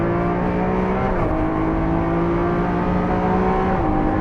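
A 740bhp Lamborghini Aventador SV, four-wheel drive, accelerating hard on a Formula 1 circuit, its engine a loud, continuous roar from inside the car, with pitch climbing and briefly dropping at a gear change before rising again.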